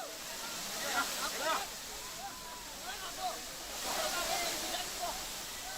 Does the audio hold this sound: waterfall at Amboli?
yes